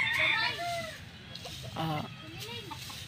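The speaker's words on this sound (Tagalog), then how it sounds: "daghag manok dire nagtugtugaok" Chickens and roosters cluck and crow around a farmyard in short overlapping calls, moderately close, with a voice talking intermittently underneath.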